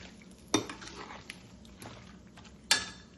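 A ladle stirs mango and green chilli pickle in oil in a steel vessel, with a few sharp metallic scrapes and clinks over a soft low background, quiet and close.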